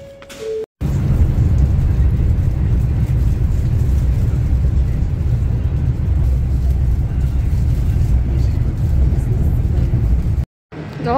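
Haramain high-speed train on the Mecca–Medina line in Saudi Arabia, a loud continuous roaring rumble heavy in low tones that holds steady for about ten seconds between brief cut-offs.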